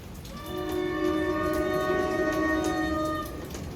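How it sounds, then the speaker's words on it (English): An approaching NJ Transit train sounds its horn, a sustained harmonic chord that swells in and holds for about three seconds before easing off, heard over a wet, hissing background. "approaching is a train 11:30 from Suffern to Hoboken"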